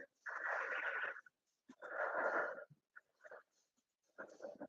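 Slow, audible breaths taken while holding a vinyasa yoga pose, with long airy inhales and exhales and short pauses between, close and unaccompanied.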